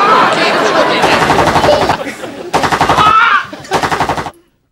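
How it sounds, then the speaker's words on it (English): Machine-gun fire from a comedy sketch rattles in loud, dense automatic bursts, three or four long volleys broken by short gaps, with voices mixed in among the shots. "Shoot him again. Shoot him again. Keep shooting him."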